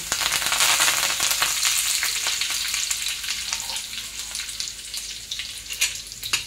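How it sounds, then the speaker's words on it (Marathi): Cumin seeds and finely chopped curry leaves sizzle and crackle in hot oil for a spicy green-pea thecha, a loud steady frying hiss with sharp pops scattered throughout and no voices. "त्याच्यानंतर हे जिरे टाकते। त्याच्यानंतर हा बारीक कढीपत्ता टाकते।"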